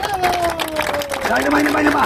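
Crowd applause at a public gathering in Peru, a dense wash of clapping and murmuring voices with a sustained tone running through it.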